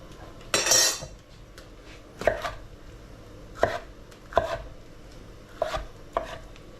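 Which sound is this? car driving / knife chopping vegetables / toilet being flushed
knife chopping vegetables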